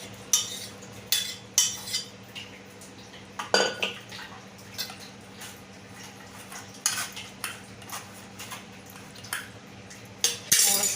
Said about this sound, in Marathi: पूर्ण हे सगळं गाळून घ्यायचं आहे